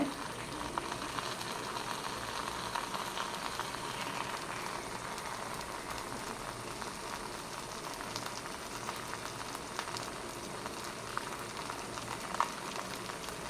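Oil sizzling in a pan as an egg fries wrapped in banana leaf over the flame, a steady low bubbling hiss that stays quiet and even throughout, with no one talking.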